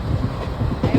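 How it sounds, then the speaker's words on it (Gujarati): A Bhavnagar-bound passenger train passes near Mangrol on a rainy day, its rumbling wheels and car noise loud and close, with a continuous low roar throughout the short moment. "આ ભાવનગર ટ્રેન જાય છે."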